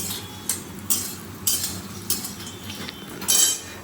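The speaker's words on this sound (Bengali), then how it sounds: "বড়িটা ভেজে নিই, সবটাই দিয়ে দিলাম" Lentil dumplings (bori) frying in oil in a wok while being stirred, with sharp metallic spatula scrapes and clinks at irregular intervals over a faint low sizzle.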